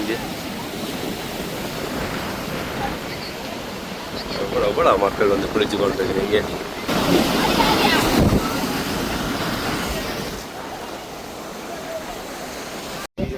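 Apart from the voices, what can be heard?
sea waves at a beach in Jaffna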